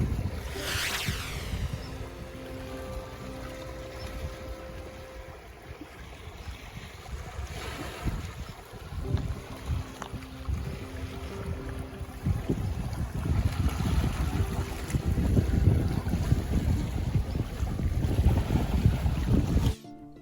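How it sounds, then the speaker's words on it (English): Water slaps and washes against rocks along a ferry route near Victoria on Vancouver Island, heard as a continuous rushing surge under strong wind noise buffeting the microphone, growing louder toward the end. "the noise made by water hitting the rocks"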